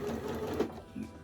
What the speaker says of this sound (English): You want to backstitch at the start and the finish.